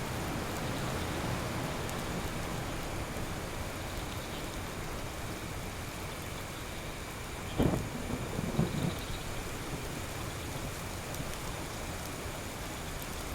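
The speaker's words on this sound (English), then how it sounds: "Another storm." A tropical island storm in Card Survival: Tropical Island brings steady, heavy rain hissing throughout, with a couple of muffled thunder rumbles rolling in near the middle.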